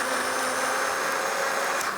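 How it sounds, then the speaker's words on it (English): A kitchen blender whirs loudly and steadily as it blends oats, a continuous high motor drone with no pauses. "Add your oats last, okay, to the blender."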